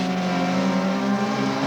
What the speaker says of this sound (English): Feeding in full throttle and shifting up through the gears, he rockets up the straightaway.